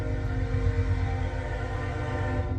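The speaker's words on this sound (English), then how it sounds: "I have to let the train run through here real quick." A train runs along tracks right beside a comic shop, a loud, steady rumble with sustained horn-like harmonic tones holding throughout, no voices over it.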